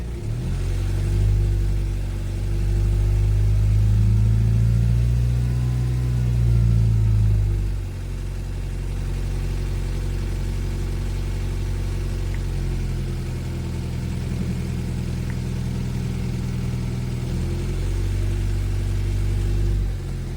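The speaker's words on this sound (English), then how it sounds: "Let's just wait for the motor to turn a little bit first." A 2016 Honda Civic diesel with a DPF fault code P24A4 idles with a steady, low, droning engine hum that eases slightly partway through. It sounds close and continuous, with no talking.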